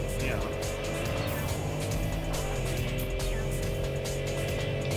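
A car in the Tokyo Xtreme Racer 3 video game drives in reverse with a steady engine drone and faint tire noise throughout, under a person talking.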